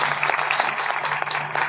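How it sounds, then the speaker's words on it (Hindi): A crowd at a public political gathering in Safidon bursts into loud, steady applause that runs without a break for the whole stretch. No voices stand out over the clapping. "ऐसे जोरदार तालियां बजाएं।"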